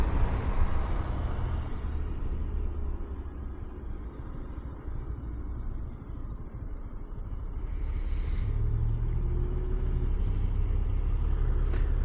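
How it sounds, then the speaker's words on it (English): A big tractor trailer truck rumbles past behind a Yamaha Xmax 300 scooter on a cold morning commute road, with low heavy engine and road noise throughout and a brief hiss near the end. "Big old tractor trailer behind me."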